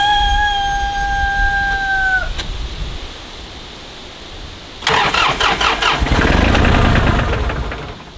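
A tractor engine cranks with a rapid rhythmic starter churn, revving briefly without catching; earlier a faint high whine fades and cuts off.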